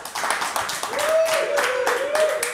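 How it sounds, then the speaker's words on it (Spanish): Applause for Luis Hierro, dense clapping in a crowd, steady and fairly loud with a tonal whistle or sustained note rising over it midway; voices mix in the background. "Un aplauso para Luis Hierro"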